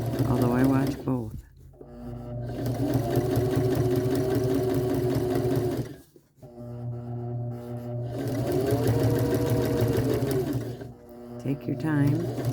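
A sewing machine stitching quilt-as-you-go sashing runs in long, steady mechanical whirring stretches, stopping briefly between runs, while someone talks over it.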